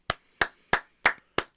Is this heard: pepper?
no